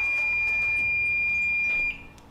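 A multimeter beeps a steady high tone while probing a Dell Optiplex 390 computer power supply, the beep holding for nearly two seconds over bench noise, then cutting off.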